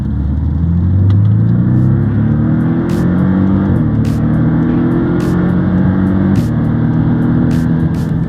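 A Porsche engine with sport exhaust drones steadily and loud, its pitch rising and falling as it revs up and eases off, with a rumbling exhaust.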